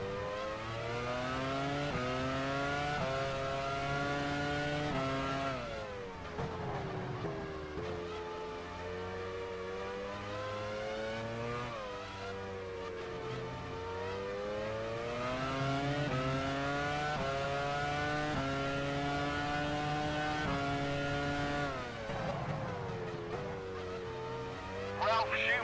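Formula 1 race car engine from the F1 Challenge 99-02 racing game at the 2002 United States Grand Prix, a loud sustained high-pitched whine with steady harmonics rising and falling through gear changes, running continuously throughout.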